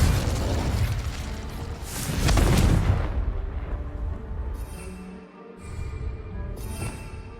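Explosive Confringo spell blasts in the Hogwarts Legacy video game, a loud booming burst swelling around the middle, followed by rumbling debris and crackling effects fading over several seconds, with no talk.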